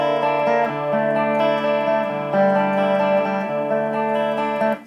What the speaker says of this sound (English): And then I'm adding the chorus.